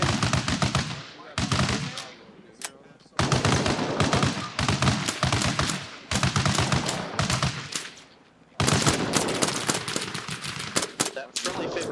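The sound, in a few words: friendly .50 caliber machine gun firing overhead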